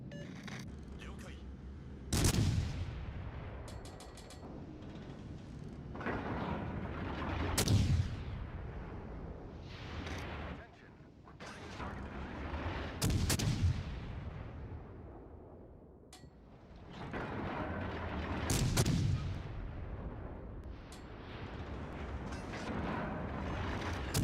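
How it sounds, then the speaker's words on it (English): Heavy naval artillery, battleship guns concentrating fire on a target, booms out in several deep, rolling blasts spaced a few seconds apart, each decaying slowly, with voices talking over the barrage. "All stations concentrate fire on the target."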